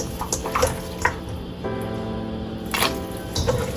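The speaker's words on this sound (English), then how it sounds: "We're going to go ahead, add the meat inside the pot." Pieces of meat dropped into a pot of water give a few scattered splashes and drips, close and moderately loud, with no talking.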